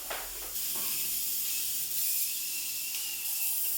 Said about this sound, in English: it's definitely generating some steam